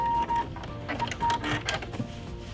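Sewing machine backstitching a fabric holiday stocking, a rapid mechanical stitching clatter in short bursts with brief pauses, close and fairly loud.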